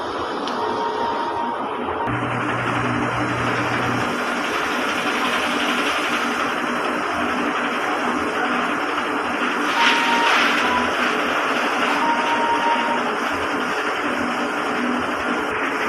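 A DTF printer hums and whirs mechanically while its head runs a cleaning cycle, with a steady motor drone and brief tonal beeps over a constant background.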